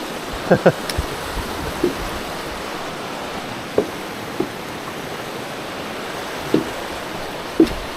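Steady rushing water of a river or creek flowing beneath a trail bridge on the Mount Marcy ascent in the Adirondack High Peaks, a constant wash with a few faint footsteps or knocks over it.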